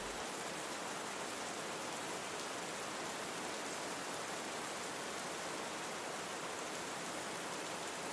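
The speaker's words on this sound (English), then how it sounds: "The rain falls outside the window, slow, gentle" Steady rain falls outside a cabin window on a night, a soft, even wash of broadband patter that holds unchanged and alone throughout, with no voices.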